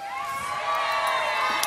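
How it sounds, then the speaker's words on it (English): An energetic crowd at an ultimate frisbee game cheers and shouts loudly and continuously in a steady, excited roar with high voices mixed in. "we've actually got quite an energetic crowd there"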